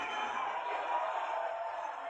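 Concert audience at a singer's performance making a steady, dense crowd roar of mixed applause and booing, sustained and fairly loud throughout with no clear individual voices.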